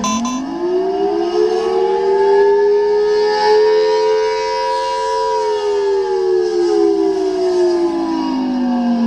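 A loud wailing siren holds a long rising-and-falling tone, steady and continuous throughout, with faint background noise underneath.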